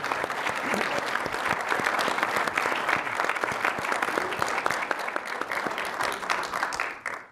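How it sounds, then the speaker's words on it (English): An audience at an education ethics and leadership panel applauds the panelists with dense, steady clapping for about seven seconds before it fades out at the end. "let's have a round of applause for our panelists"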